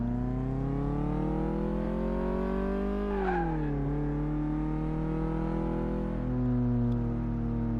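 A car in the Car Mechanic Simulator video game accelerates during a road test, its engine droning steadily with pitch climbing, dipping at a gear change, then rising again, loud and continuous with no talk.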